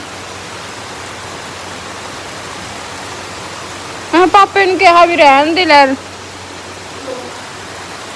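Heavy rain pours in a steady, dense hiss, with a voice speaking briefly over it midway.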